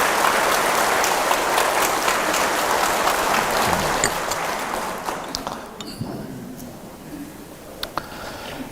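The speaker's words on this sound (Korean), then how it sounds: "요 대목에서는 박수가 나와도 괜찮을 때입니다." A church congregation applauds during a priest's sermon with loud, dense clapping that gradually thins and fades into a few scattered claps and room murmur.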